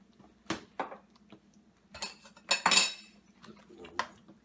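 Potato and spinach stirred in a pan with a utensil, giving intermittent close scrapes and clanks against the metal over a low steady hum, quiet between strokes.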